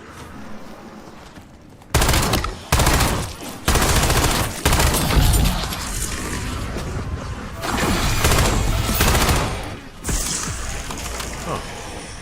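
Loud, close bursts of video game gunfire aimed at a power box, with several heavy volleys separated by short pauses amid cluttered game noise.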